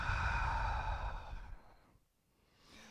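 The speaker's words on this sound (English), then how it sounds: "Big exhale." A single long, audible exhale of breath during a yoga session, close and fading out over about a second and a half, followed by near silence and a faint breath at the end.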